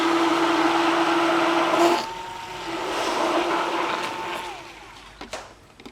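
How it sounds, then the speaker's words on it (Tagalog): A hand blender whirs through salt brine in a kitchen, a loud steady motor whine that cuts off, restarts and winds down into a few knocks. "Pero para lang mas safe, meron tayong hand blender dito."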